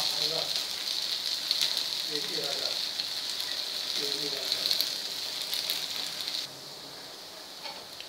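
Green moong dal vadi topped with sesame seeds pan-fry with a steady hissing sizzle and a few faint crackles. The hiss softens noticeably near the end.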